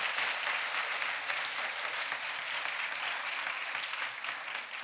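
A church congregation gives sustained applause for the orchestra and choir, a soft, even wash of many hands clapping at a distance.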